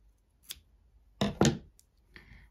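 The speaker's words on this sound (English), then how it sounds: "and then I'll snip that." Scissors snip the yarn tail off a crocheted amigurumi figure, a few quick close cuts with light handling noise between them and no talking.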